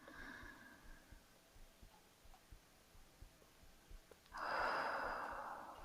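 Slow, deep exhaling breath during a gentle yoga stretching session, a quiet airy rush that swells near the end after soft, faint breathing and small ticks, close and alone without talk.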